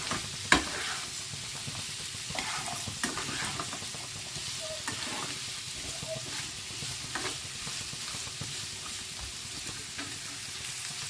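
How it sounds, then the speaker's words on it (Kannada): Onions, coriander and curry leaves sizzle in hot oil for an Andhra-style radish chutney while being stirred, a steady close crackle broken by spoon scrapes against the pan. "ಚೆನ್ನಾಗಿ ಆಯಿಲಲ್ಲಿ ಫ್ರೈ ಆಗಬೇಕಾಗತ್ತೆ"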